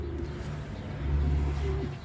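Young racing homing pigeons coo in low, soft, throaty notes, a couple of rolling calls close by over faint background hum.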